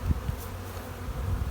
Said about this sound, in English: appears to be lots of bees there